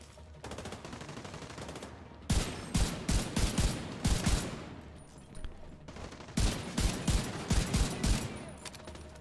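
Enemy automatic gunfire in The Division 2: Warlords of New York, rapid loud bursts of shots in several clusters, with quieter distant firing between them.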